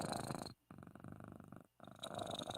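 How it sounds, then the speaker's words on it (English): A pet cat purrs close to the microphone, a soft steady rumble broken by two brief pauses, with no talking over it. "Do you hear her purring?"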